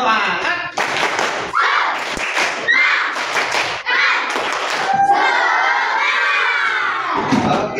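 A fourth-grade class of children chanting and shouting together in a classroom, loud and close, with rhythmic claps and thumps between the bursts of voices.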